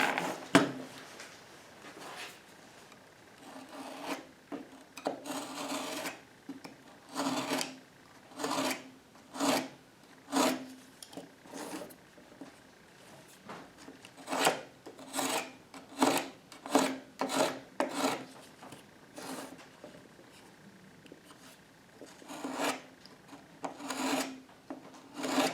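A utility knife scores the back of a drywall sheet in a series of short, close rasping strokes, some quick and clustered, others spaced apart, with no talking.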